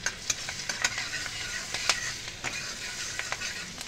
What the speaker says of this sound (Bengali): দিয়ে দিলাম 2টো পরিমাণ মতন কাঁচা লঙ্কা কুচি।